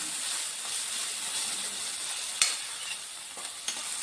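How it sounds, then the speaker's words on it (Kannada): Shredded cabbage, carrot and onion sauté in oil in a pan, giving a steady soft sizzle with a few sharp clicks and scrapes from the stirring spoon near the end. "ಎಲೆಕೋಸು, ಕ್ಯಾರೆಟು ಮತ್ತು ಈರುಳ್ಳಿ ತಗೊಂಡಿದ್ದೇನೆ. ಇದೊಂದು 2 ನಿಮಿಷ ಬಾಡಿಸ್ಕೊಳ್ಳೋಣ."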